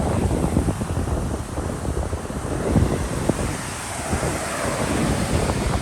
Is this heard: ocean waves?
yes